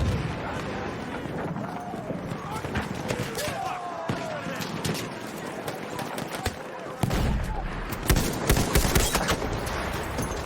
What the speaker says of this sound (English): I'm gonna show you my absolute favorite gun. The General Liu auto rifle.